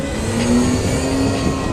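A damaged monster truck at an outdoor arena show keeps rolling under its own power, its engine a steady, loud, rough drone with a faint whining tone running through it.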